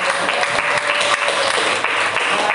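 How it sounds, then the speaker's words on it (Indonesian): A classroom group applauding its representatives, a dense, steady burst of clapping from many hands close by, lasting a few seconds without a break. "kelompok 4, kasih aplaus dulu perwakilan mereka"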